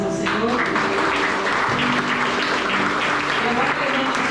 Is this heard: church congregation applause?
yes